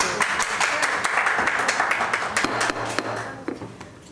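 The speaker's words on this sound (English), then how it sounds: "No applause, please." Steady clapping from attendees at a city council and housing authority meeting, close and brisk, tapering off toward the end.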